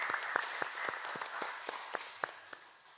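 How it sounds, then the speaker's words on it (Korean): A church congregation gives applause during a Sunday worship service. The clapping is faint and fairly sparse, with a few sharp individual claps standing out over a soft wash, fading toward the end. "우리 하나님께 영광의 박수 올려드리시겠습니다."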